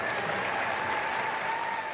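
A roomful of people at a book club applauding, dense steady clapping that fills the whole moment, close and even, with no break.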